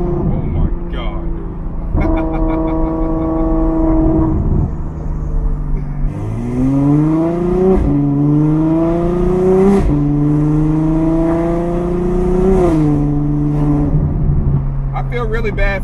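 Straight-piped Ferrari F12 V12 idling, then blipped and held in long rising revs, a loud, close, harsh exhaust howl that drops back toward idle at the end.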